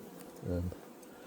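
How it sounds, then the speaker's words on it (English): Honey bees buzzing in an open beehive during a winter varroa treatment with Apivar strips, a short low hum that swells briefly and fades against a faint background. "there were lots of bees, so it's sometimes difficult to see her"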